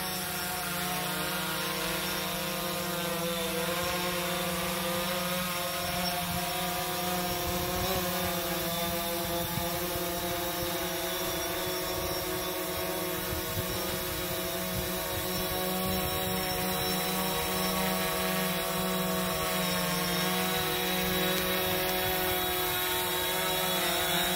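A DJI Phantom 4 drone flies, its rotors giving a steady, even electric whine with layered tonal hums, close and unbroken throughout, with no talk.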